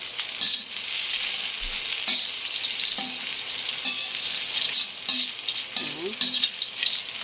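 Tofu sisig ingredients tossed together in a frying pan, a bright steady sizzle with intermittent scraping and clinking of a spatula against the pan, close and continuous.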